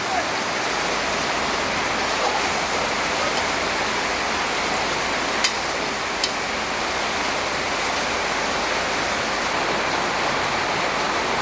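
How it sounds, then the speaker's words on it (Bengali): A constant roar of heavy rainfall fills the whole stretch, steady and unbroken, with a couple of faint sharp ticks near the middle. "বাইরে প্রচণ্ড বৃষ্টি হচ্ছে"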